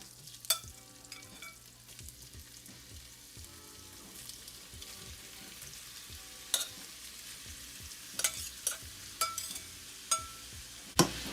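Meat sears in a hot skillet with a low, continuous sizzle, broken by scattered sharp pops and scraping stirs, loudest near the end, and no one speaks.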